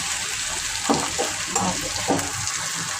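Okra bhaji frying in a pan, a steady close sizzle with several brief louder scrapes or stirs scattered through it, and no voices.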